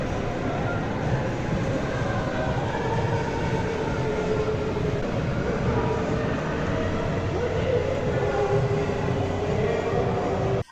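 A train in Kosovo rumbles steadily along the rails with a constant, loud rolling roar and faint squeals, sustained throughout.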